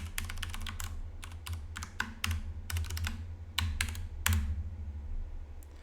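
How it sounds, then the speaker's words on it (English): Keys on a computer keyboard clack as a password is typed, a close, quiet series of irregular taps and short bursts with pauses between them. No one speaks over it. "I'm going to go down here and type in my password where nobody can see that."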